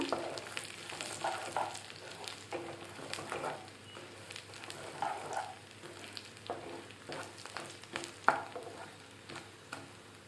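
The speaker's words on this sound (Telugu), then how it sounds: "వెల్లుల్లిపాయలు వేసాను ఇది బాగా ఫ్రై అయిన తర్వాత" Garlic cloves frying in a pan with chana dal, cumin and mustard seeds for an okra and tomato fry, giving a steady soft sizzle with occasional stirring scrapes and small pops, close and moderately quiet, no voices.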